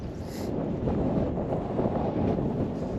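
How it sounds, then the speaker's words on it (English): Wind blows steadily across an open corn field, heard as a continuous low buffeting rumble on the microphone with no speech. "Kind of windy out here"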